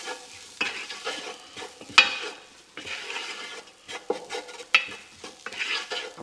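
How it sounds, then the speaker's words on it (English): Steady sizzling of spices frying in a pan for chilli con carne, with occasional scraping and clinks as the contents are stirred around, close up and without talk. "we're going to let that fry off now for a minute or two"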